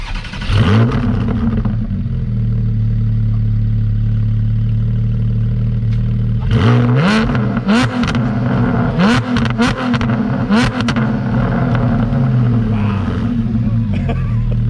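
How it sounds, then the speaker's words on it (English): Porsche GT4 fitted with race headers and a straight exhaust, revving hard in loud, close bursts over a rough idle, with several sharp throttle blips in quick succession. "I hope you can get an idea of how loud this exhaust is with the microphone on my GoPro."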